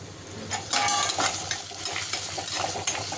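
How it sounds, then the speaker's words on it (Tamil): Tomatoes sautéing in a pan for a fish kuzhambu, a steady sizzle with bursts of stirring and utensil scrapes against the pan. "இங்கே பாருங்கள் நல்லா வதங்கட்டும். தக்காளி வதங்கட்டும்."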